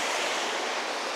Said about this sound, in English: The water runs all around it.